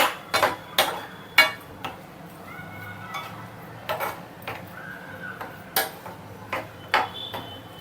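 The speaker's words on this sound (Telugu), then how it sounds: "బెల్లం తీసుకొని బెల్లంని ఇందులో వేసుకొని బెల్లం కరిగేంత వరకు ఇలా కలుపుకోవాలి" Jaggery is stirred into semiya payasam in a pan, giving repeated sharp clinks and scrapes of a spoon against metal in an irregular rhythm, close and fairly loud, with short tonal squeaks between them.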